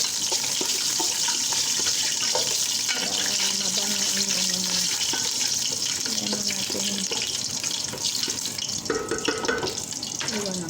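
Water runs steadily from a kitchen tap during cooking, a continuous close hiss with faint clatter and a voice in the background.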